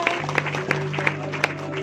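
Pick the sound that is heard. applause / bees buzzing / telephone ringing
applause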